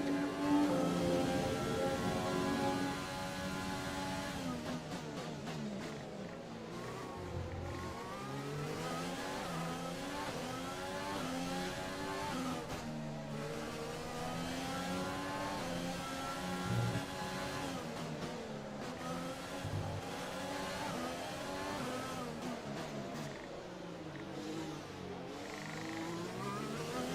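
A Formula 1 race car engine in the video game F1 2020, showing slight wear, screams continuously as it accelerates and shifts through gears, with repeated rising whines and brief drops at upshifts and no talk over it.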